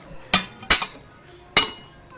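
A spoon or utensil clinks against a dish while dinakdakan dressed with calamansi is stirred, with three sharp, close clinks spaced irregularly over a quiet background.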